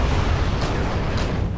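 Enemy artillery fire in a strategy video game forms a dense, continuous rumble of explosions with two sharper blasts rising above the steady roar, loud and close, with no talking.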